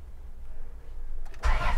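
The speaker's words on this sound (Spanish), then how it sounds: "Voy a darle aquí arranque a esta camioneta" A Chrysler Caravan van with a 3.3L engine and a stalling fault cranks briefly, then fires and catches with a loud, close rumble in the final half-second.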